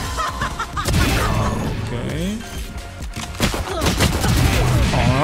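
Gunfire from a Valorant match, shots and bursts crackling across the clip alongside other game effects, with a commentator talking over the action throughout.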